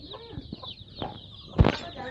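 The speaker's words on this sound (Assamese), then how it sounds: "30 পিচ মুৰ্গীৰ পোৱালি।" Local chickens on a small poultry farm, with a few brief clucks and calls over about two seconds and one louder burst near the end, close by.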